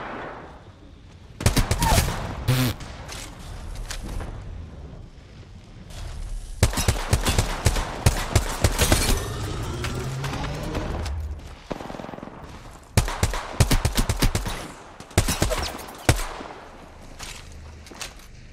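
Video game gunfire in a battle royale lobby fight: repeated bursts of automatic fire and single loud shots, near and far, in dense clusters separated by quieter stretches, with no talk.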